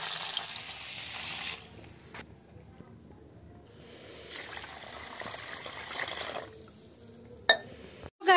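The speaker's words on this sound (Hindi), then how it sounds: "गाइस देखो पनीर फ्राई हो रहा है" Paneer sizzling in hot oil in a pan, a steady broadband hiss that swells and eases, with a couple of sharp spatters near the end.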